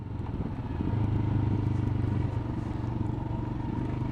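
Royal Enfield 411 Himalayan trail motorcycle being ridden, a steady low single-cylinder engine rumble with wind noise, continuous and close throughout.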